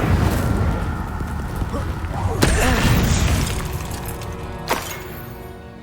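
Incendio fire spell cast in Hogwarts Legacy: a loud rumbling whoosh with sharp cracks and a crashing burst, fading into a lingering roar with a second crack near the end, with talk in the background.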